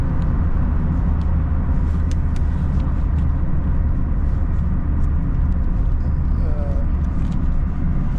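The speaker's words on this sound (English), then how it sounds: "the Uber is driving" Uber car driving on South African roads, heard from inside the cabin as a continuous loud low engine and road rumble with occasional faint rattles and a voice speaking over it.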